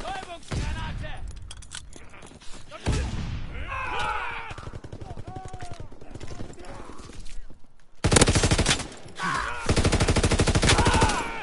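Gunfire in Call of Duty WWII comes in repeated bursts of rapid automatic shots, loud and close, broken by short pauses, with someone talking over the shooting.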